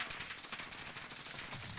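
Rapid gunfire in the Warzone shooter, a dense run of clipped shots in quick succession, fairly faint and distant throughout with no talk over it.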